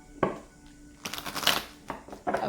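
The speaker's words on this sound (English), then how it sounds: "Let's do 2 more shuffles." Tarot cards are shuffled close by in a few quick, soft riffling bursts, quiet and alone.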